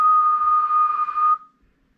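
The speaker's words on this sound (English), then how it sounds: "Give a little whistle here." A steady whistle into the microphone of a President Walker III CB radio on AM channel 20 holds one pure tone for over a second, then cuts off abruptly into silence.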